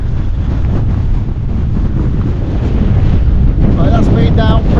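Strong gusty wind buffeting the microphone in a fell valley, loud steady low rumble throughout, with a voice briefly heard near the end.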